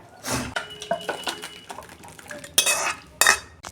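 Mung dal cooked with fish head is poured from a pot, with a ladle clanking and scraping against the metal in several sharp, close clinks and knocks, with quiet gaps between them.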